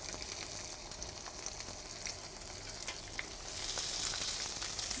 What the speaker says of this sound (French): On passe désormais à la cuisson de nos filets. On met un peu d'huile d'olive.